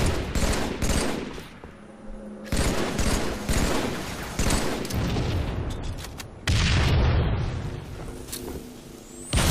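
A grenade bursts in a multiplayer shooter match, its boom landing amid dense, continuous gunfire and loud battle noise with no clear break.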